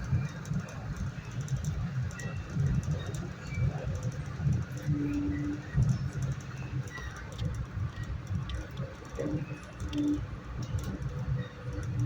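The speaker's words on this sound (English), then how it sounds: "And the train's picking up speed again." A Metro-North commuter train between Irvington and Grand Central rumbles along as it picks up speed near University Heights, a low continuous rolling drone with faint squeals and cooing pigeon-like tones over it.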